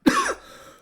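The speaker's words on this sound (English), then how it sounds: "this cough, I don't know when it's ever going to go away" A single short, chesty human cough, close and fairly loud, followed by a brief fading tail and quiet.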